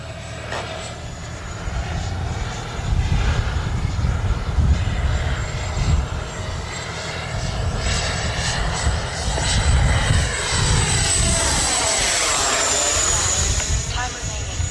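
A FlyFans MiG-25 RC model jet taking off and flying, a loud continuous whine and rush that rises and sweeps past in a doppler pass, with voices talking over it.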